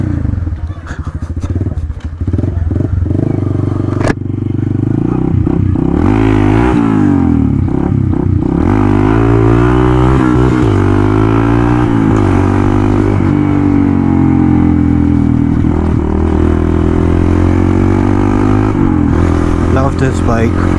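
A modified Hero Impulse motorcycle being ridden, its engine droning steadily and loudly up close with rising and falling revs and some clatter from the road.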